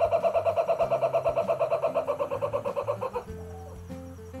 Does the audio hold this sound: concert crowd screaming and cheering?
no